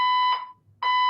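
Electronic fire alarm sounding loud and close in two harsh tonal bursts separated by a short silent gap, with no voices.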